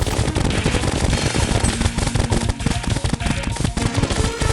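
Rapid automatic gunfire in the Terraria video game aimed at the Plantera boss, a dense, loud, continuous rattle of shots with no voices.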